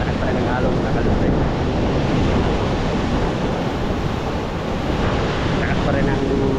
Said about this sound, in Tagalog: Lakas pa rin ang hangin